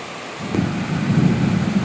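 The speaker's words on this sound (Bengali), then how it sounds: "আকাশে বজ্র বিদ্যুৎ সহ" Thunder rumbling during a rainstorm, a deep rolling boom swelling up after a brief quiet start and holding loud over a wash of rain.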